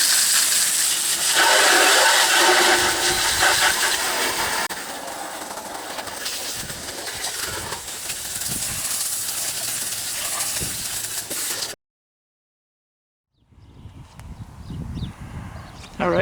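Water rinsing cleaner off the engine bay of a 1998 Corvette C5, a steady, loud spray hiss lasting about twelve seconds that cuts off abruptly, followed after a short silence by quieter, fainter splashing.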